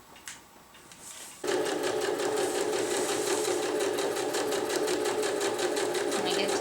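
A sewing machine stitches fabric for a hammock underquilt protector, starting after a brief quiet moment and then running loud and close in a fast, steady whir without pausing.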